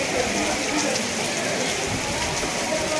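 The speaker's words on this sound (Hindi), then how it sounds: "घनघोर बारिश के बीच में मौसम का ये आलम है कि ठंड से हाथ पैर सिकुड़ रहे हैं" Torrential rain falls in cold weather on the Vaishno Devi pilgrimage route, a steady, loud, close roar of drops on surfaces filling the whole stretch without pause.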